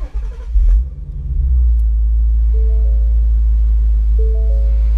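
A 2017 Ford Mustang GT California Special convertible with a V8 and 6-speed manual fires up with a push-button start, a brief loud whir and catch, then settles into a steady deep idle rumble, close and alone.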